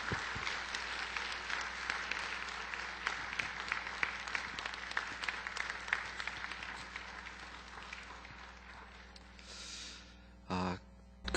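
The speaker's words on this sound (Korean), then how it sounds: "우리 나오실 때 큰 박수로 환영하도록 하겠습니다." An audience at a church gathering applauds to welcome pastor Ko Jong-yul, a dense clatter of many hands clapping that slowly thins and fades, followed by a few brief muffled knocks.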